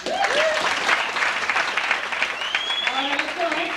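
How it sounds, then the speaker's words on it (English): Breakfast crowd at a 1994 UCLA football Bruin Breakfast claps steadily and loudly, with voices and cheers mixed into the dense applause throughout. "clap for Darren"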